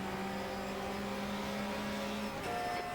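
A race car engine in the racing game GTR2 holds a loud, steady high-pitched drone at near-constant revs, shifting pitch slightly near the end, with no voices.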